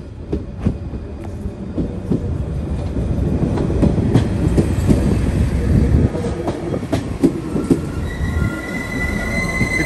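A train arrives in Frankfurt with loud, sustained metallic wheel squeals over a rumbling, clattering undercarriage, growing steadily closer.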